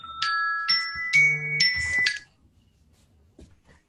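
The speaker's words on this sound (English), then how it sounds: "I said it, and then the phone ring." A phone rings with a quick run of bright electronic chiming tones that lasts about two seconds. Near silence follows.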